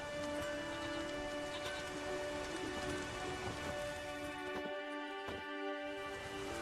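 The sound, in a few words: rain in the video game The Witcher 3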